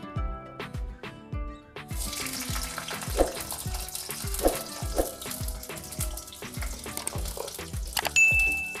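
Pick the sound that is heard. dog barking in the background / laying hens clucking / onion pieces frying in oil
onion pieces frying in oil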